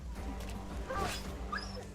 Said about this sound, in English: Try and take out the dog first.